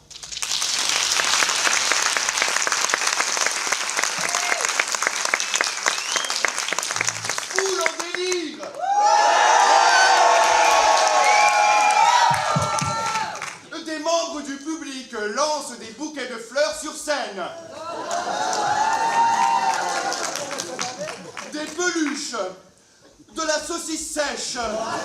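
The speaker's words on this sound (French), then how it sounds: "Alors, applaudissements." A large audience at a French union celebration breaks into sustained applause with cheers and whoops, loud and dense, swelling in waves over about twenty-five seconds, with voices shouting through the crowd noise.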